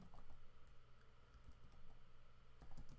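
Quick, light clatter of keys on a computer keyboard, a short burst of steady typing heard close and fairly faint over a low room hum, with no talking.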